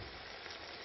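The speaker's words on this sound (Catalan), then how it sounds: "Mentre sofregim la col" Shredded cabbage frying in a pan with a spoonful of red lard, giving a dense, steady, close sizzle that holds evenly throughout with no voices.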